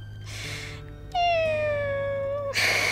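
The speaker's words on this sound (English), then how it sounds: "Gonna limp and making this meowing sound." An injured cat gives a single long, drawn-out meow that falls slightly in pitch, close and clear over a low background hum, with brief breathy noises before and after.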